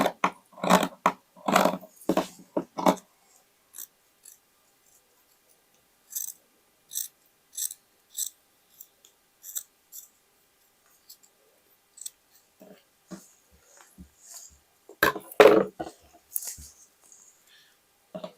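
Scissors snip through denim jeans fabric to shape a cuff during an upcycled patchwork drop-crotch sewing project, a close run of quick crisp cuts at the start, then sparse slower snips and a final burst of closer cuts.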